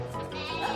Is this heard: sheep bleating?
yes